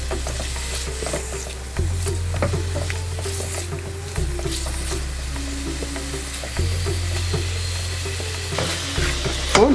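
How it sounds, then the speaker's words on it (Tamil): Paneer cubes fry in hot oil with a close, steady sizzle, broken by scraping stirs, over a low constant hum; no one speaks. "கட் பண்ண பன்னீரை இந்த எண்ணெயில் போடுறேன். போட்டுட்டு இதை ஸ்லைட்டாக ரோஸ்ட் பண்ணு."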